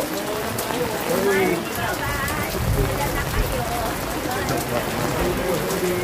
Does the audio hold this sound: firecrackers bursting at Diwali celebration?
no